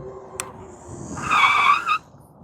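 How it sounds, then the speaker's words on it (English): A Happyrun G100 e-bike skids to a stop under hydraulic brakes, giving one short tire screech of about a second, close and fairly loud, with no talk over it. "obviously it skid a little bit, but those hydraulic brakes, they grabbed on like immediately"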